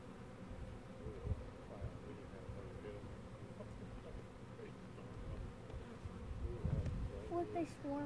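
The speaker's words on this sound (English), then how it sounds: "These bees come from this big hive over here." A dense, steady buzzing of a Russian honey bee swarm gathered on an auger surrounds the listener, droning continuously with slight swells in loudness, no voices present.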